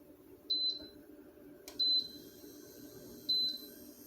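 A kitchen cooktop gives three short, clear electronic beeps spaced about a second apart as it is switched back on, against a quiet background with one soft click.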